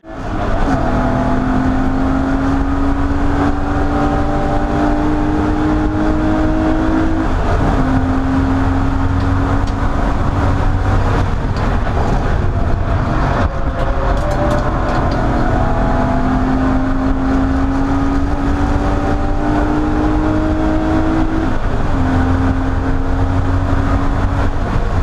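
Race cars in a 750MC club endurance race at Oulton Park, including a Mazda 2, drone loudly at close range, engines climbing through gears again and again in a steady, continuous circuit roar with no talk.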